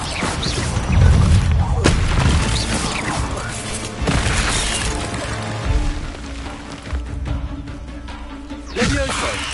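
Hogwarts Legacy's Incendio fire spell bursts out in several separate booming whooshes spread across the stretch, each a short loud blast set against quieter game ambience.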